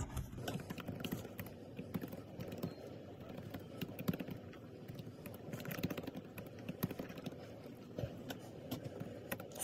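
Keys tapped steadily on a computer keyboard while typing eBay feedback, a quiet, continuous patter of close keystrokes with no talking.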